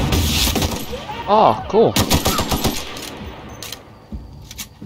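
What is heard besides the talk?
gunshots from video game The Outer Worlds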